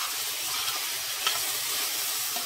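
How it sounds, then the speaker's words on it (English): Vegetables sauté in a hot pan for ackee and saltfish patty filling, giving a loud, continuous close-up sizzle with a faint stir partway through and no talking. "we're just sauteing them"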